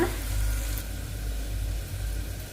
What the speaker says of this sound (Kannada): ಈರುಳ್ಳಿ ಚೆನ್ನಾಗಿ ಫ್ರೈ ಆಗಿದೆ ಇವಾಗ ಟೊಮೊಟೊ ಸೇರಿಸ್ಕೊಳ್ಳೋಣ